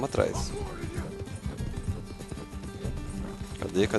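A horse gallops in Red Dead Redemption 2, with rapid rhythmic hoofbeats running steadily under someone speaking.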